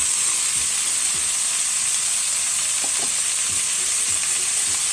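Cubes of olive-oil-marinated beef fry steadily in a pan with a dense, continuous sizzle and occasional faint stirring scrapes, close up and with no voices.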